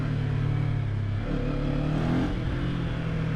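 Kawasaki Z500 naked motorcycle idling then blipped on the throttle, a close, loud engine rumble rising and falling in pitch over a few seconds with no voices.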